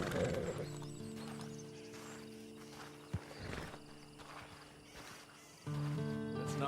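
A horse in the Red Dead Redemption 2 video game whinnies and snorts while hooves clip-clop at a steady pace, faint, with crickets chirping in an outdoor night setting and no talk.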